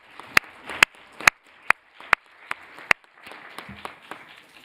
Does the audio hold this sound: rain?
no